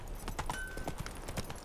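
Horse hooves clip-clopping at a walk in The Witcher 3 game, an even rhythm of soft close thuds under faint background ambience.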